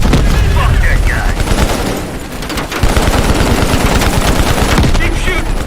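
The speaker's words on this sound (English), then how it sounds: "Keep shooting!" Dense automatic gunfire rattles continuously in a Call of Duty Black Ops Cold War urban firefight, loud and close with rapid bursts and booms, while voices shout over the shooting.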